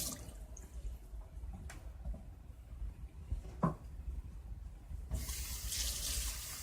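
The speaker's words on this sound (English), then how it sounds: "Now what we're going to do is add about a cup of water." Water running from a tap in a kitchen while a cup is filled to add to seasoned chicken, a quiet hiss with a couple of drips and splashes, then a louder rushing flow near the end.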